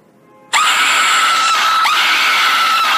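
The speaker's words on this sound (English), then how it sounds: "I warned you, I told you there will be a jump scare" A jump-scare scream sound effect from an iOS 8.3 Cydia tweak blasts suddenly from an iPhone speaker, a loud, shrill, sustained shriek that starts abruptly after a moment of quiet and holds for several seconds, with no talking.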